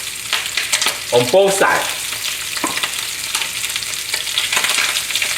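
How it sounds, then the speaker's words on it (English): Bell pepper, celery, carrot and broccoli stir-fried with ginger and garlic, a steady close sizzle with occasional stirring scrapes. A brief voice speaks early on over the frying. "Got bell pepper, celery, carrot, broccoli. I'm gonna add in some ginger and garlic"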